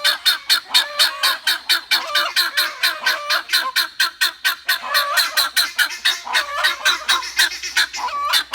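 Several birds flying across a property call in loud, rhythmic honking and gobbling bursts, many quick repeated calls overlapping close by with no talk.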